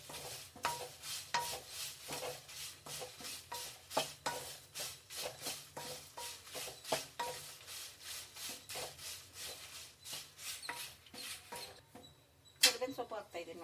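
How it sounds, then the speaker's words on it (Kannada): Red chilies frying in oil in a pan while being stirred, a quiet sizzle under steady rhythmic scraping and rubbing strokes of the spatula, repeated roughly every half second, with a sharper clink near the end. "ಮೆಣಸಿನ್ಕಾಯಿಗೆ ಮಾತ್ರ ಎಣ್ಣೆ ಹಾಕಿ ಹುರಿತಾ ಇದ್ದೀನಿ ಇಲ್ಲಿ."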